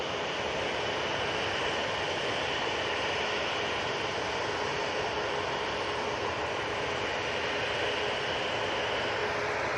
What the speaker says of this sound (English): Cessna Citation on a short flight down to Bournemouth now.